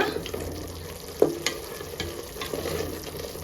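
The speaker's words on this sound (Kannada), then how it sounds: "ಸೊ ಇದು ನೋಡ್ಬೋದು ಚೆನ್ನಾಗಿ ಫ್ರೈ ಆಗ್ತಿದೆ" Onion and masala frying in oil for donne biryani give a close, continuous sizzle with a few sharp spoon clatters and stirring knocks partway through, and no one speaks.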